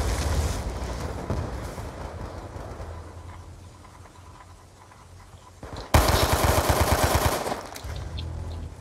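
Gunfire in the Black Ops 2 multiplayer video game on PC: an opening stretch of automatic fire fades into quieter background, then a sudden loud burst of rapid machine-gun shots erupts near the end.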